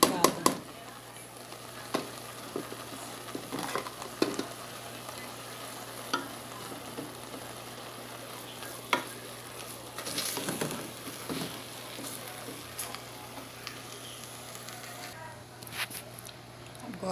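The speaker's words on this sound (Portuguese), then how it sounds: "Agora vamos mexer." Food is stirred in a pan along with basil and chopped mint, giving a steady scraping stir over a continuous sizzle with a few sharper clicks and clatters.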